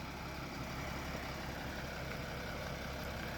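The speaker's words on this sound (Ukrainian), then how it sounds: "мотор заведений, послухайте як робить" A steady, low Mercedes-Benz Sprinter 319 van engine idle rumbles continuously and evenly throughout, close by, with no voices over it.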